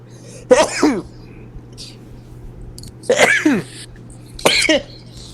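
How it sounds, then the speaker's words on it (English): Three sneezes or sneeze-like coughs, close and fairly loud, spaced out over a few seconds with a steady low hum underneath. "Bless you."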